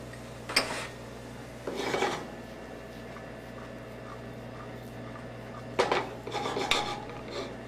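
Green beans, left long, folded into coconut milk in a pan, giving two or three short bursts of scraping and clattering against the cookware separated by quiet stretches.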